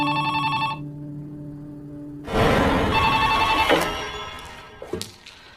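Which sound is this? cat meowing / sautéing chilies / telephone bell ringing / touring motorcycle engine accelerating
telephone bell ringing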